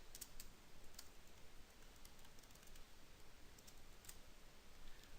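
Quick, light keystrokes on a computer keyboard, a few scattered clicks standing out above a faint steady background hiss, no voices.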